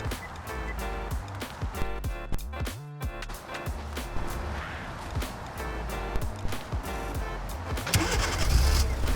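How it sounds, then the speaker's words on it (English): A 2022-2024 Kia Forte engine cranks and catches after a remote starter is triggered, then idles with a steady mid-pitched rumble up close, with clicks and faint cabin noises around it. "And here you go, the car started."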